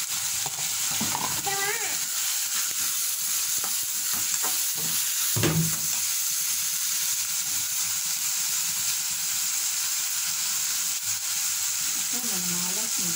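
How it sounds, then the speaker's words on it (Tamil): Tomatoes sautéing in oil in a pan give a steady close sizzle with scraping stirring strokes and a few clinks, plus brief murmured voices now and then. "வதக்கிக்கிறோம். இது கூட தக்காளி நம்ம வந்து சேர்த்துக்கிறோம்."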